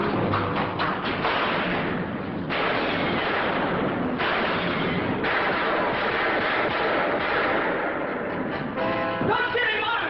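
Gunshots in a Dragnet radio drama ring out as repeated heavy thuds and cracks, loud and close, mixed with tense voices speaking throughout.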